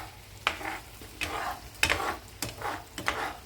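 Garlic and onion sauté in a hot pan for garlic buttered mussels, with several distinct spoon strokes scraping through the soft frying hiss at steady intervals, heard up close.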